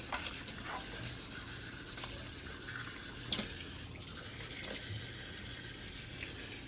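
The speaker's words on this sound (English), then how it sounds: "My goodness, that water is hot, Meela." Hot tap water runs steadily for a pet monkey's bath, a continuous even rush of splashing water with a few soft knocks and bumps over it.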